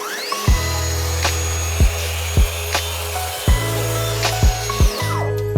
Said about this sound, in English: The track saw makes light work of all this plywood